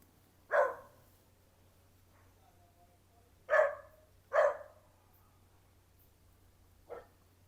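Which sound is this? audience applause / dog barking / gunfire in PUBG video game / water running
dog barking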